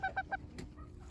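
A little Mille Fleur bantam hen, a French bantam breed, gives three quick, faint nasal clucks in a row, followed by quiet background sounds.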